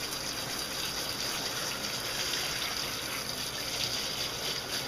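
Water from a hose or shower pours steadily over a dog's thick coat during a bath, a continuous close gushing and splashing that stays even from start to finish, with no voices.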